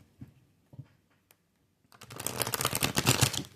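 Tarot cards are handled with a few soft taps, then riffled in a fast, dense burst of papery flutter that runs to the end, close and fairly loud.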